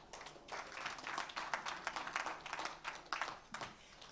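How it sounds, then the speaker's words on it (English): An audience at a book launch awards ceremony breaks into sustained applause for the runner-up, a continuous, even wash of many hands clapping, faint and somewhat distant, with no talk over it. "please, a round of applause for Jonathan"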